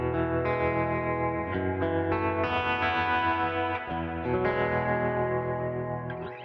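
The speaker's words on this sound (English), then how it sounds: "I'm going to add some nice delay and some atmospheric reverb" Fender Acoustasonic Stratocaster guitar played through tremolo, delay and atmospheric reverb, sustained chords ringing and shimmering with echoing repeats, loud and continuous with no talking.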